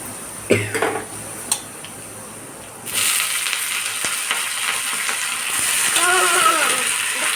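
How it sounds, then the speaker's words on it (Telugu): Drumstick leaves dropped into hot tempering oil, a few clanks and a cough before a sudden steady sizzle of frying that swells slightly toward the end. "పోపు వేగిందండి, ఇప్పుడు ఆకు వేసుకున్నాం."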